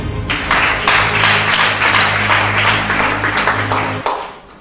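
A church congregation breaks into loud, sustained applause and clapping for about four seconds, with a low musical hum underneath, before the sound cuts off abruptly.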